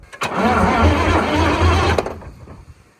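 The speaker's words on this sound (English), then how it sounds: "That sounded like that cranked." A car engine cranks for about two seconds with a rhythmic, pulsing churn, then cuts off into quiet.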